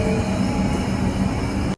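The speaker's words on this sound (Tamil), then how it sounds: "நம்ம ட்ரெயின் வந்துச்சுங்க, வாங்க ஏறலாம்." A train at Southern Cross railway station in Melbourne. A steady, loud rumble with a faint metallic hum continues unbroken and then stops abruptly.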